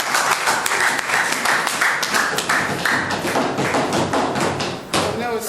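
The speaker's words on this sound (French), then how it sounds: "si les Madimbadiens peuvent applaudir pour ça." An audience at a health-zone training event in Madimba claps together, quick dense hand claps with a few louder thumps, close and fairly loud, continuing almost without pause.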